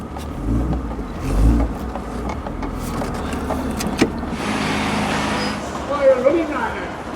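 MG F sports car towing another car, its engine droning steadily up close with road and cabin noise, rising slightly midway, while people talk over it.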